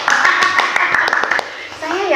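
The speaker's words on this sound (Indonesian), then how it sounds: "Oke, tepuk tangan dulu dong." Students in a classroom clap in a short burst of sharp, close applause, with children's voices and a teacher's speech mixed in.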